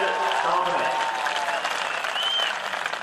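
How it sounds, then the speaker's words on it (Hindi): Sustained audience applause fills a Hindi comedy poetry gathering (hasya kavi sammelan), a dense, steady clatter of many hands throughout, close and loud, with faint voices mixed in. "तालियां हो जाए आपकी।"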